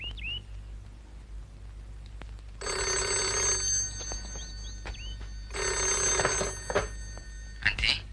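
A telephone in a 1979 Indonesian film rings in two long bright trilling bursts separated by a pause, clear and fairly loud over a low background hum.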